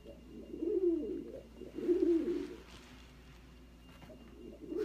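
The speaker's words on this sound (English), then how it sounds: "Why do I feel like I have a cockatoo behind my head?" A cockatoo makes low, throaty cooing calls close behind someone, coming in two or three soft warbling bursts with quieter gaps between them and no talking.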